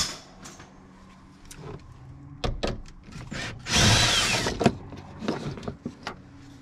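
A wrench with a 14 mm socket breaks loose a tight seat bolt in a Nissan 370Z: scattered close metallic taps and clicks, then a loud, grinding, ratcheting burst lasting under a second, with no voice.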